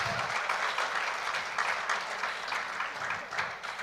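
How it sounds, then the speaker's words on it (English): An audience applauds the close of a panel discussion at a conference, sustained clapping from a crowd with a dense, even texture, moderately loud and without talk. "Let's give another round of applause to our last panel discussion."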